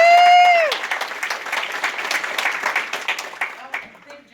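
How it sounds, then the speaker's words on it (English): A conference audience at a software talk breaks into applause after a bright electronic tone, a busy clatter of clapping that thins and fades by the end. "I'll give her a huge round of applause."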